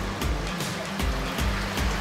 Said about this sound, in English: the clean water weirs over the top and goes on